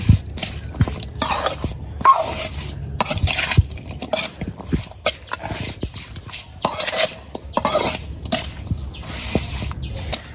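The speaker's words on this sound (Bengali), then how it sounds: "তো তেল দেওয়ার পর হচ্ছে যে সবগুলো ভালোভাবে মাখিয়ে নিতে হবে" Small river fish are hand-mixed with oil and spices for a bhuna in a village kitchen, making irregular wet squishes and soft clinks against a pot in uneven bursts with short pauses.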